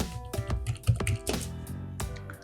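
Computer keyboard keys tapped in a quick irregular burst while typing a folder name, close and clear with short pauses between strokes and no talking.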